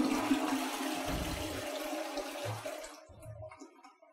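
A hotel-room toilet flushing, a loud rushing gush of water that gradually tapers off and quietens toward the end, with no talking.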